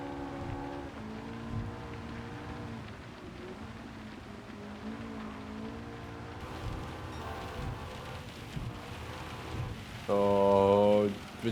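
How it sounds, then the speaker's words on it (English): Heavy rain hisses steadily in the Gran Turismo 7 racing game, mixed with humming, shifting car engine tones that swell louder near the end. "here comes the bad rain"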